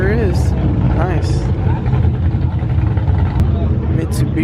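A turbocharged Mitsubishi Eclipse idles and revs at a car meet, its engine rumbling steadily under nearby chatter, with brief higher-pitched whooshes from the turbo.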